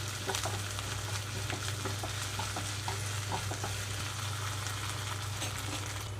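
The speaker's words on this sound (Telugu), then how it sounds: "ఇందులోకి అల్లం వెల్లుల్లి పేస్ట్ ఒక స్పూన్ వరకు వేసుకుంటున్నాను కొంచెం పచ్చివాసన పోయే వరకు వేయించుకుంటున్నాను" Onions with a spoonful of ginger garlic paste fry in a pan for an aloo curry, giving a steady, dense sizzle throughout with occasional scraping stir strokes and a low background hum.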